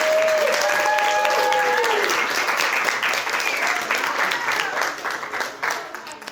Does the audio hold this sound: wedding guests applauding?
yes